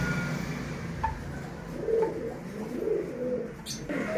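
Soft, low coos of a chuha pigeon repeat a few times at close range, with a faint chirp and some background noise.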